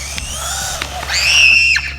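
A WLtoys A979-4 RC truck's electric motor whines on a speed run, a thin high whir that swells into a sharp rising screech and then drops off abruptly.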